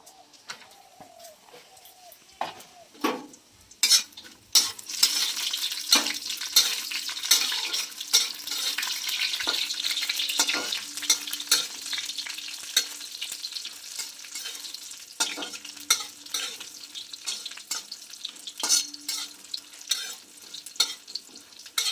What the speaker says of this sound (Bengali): এবার আমি প্রথমে বড়ি ভেজে নেব।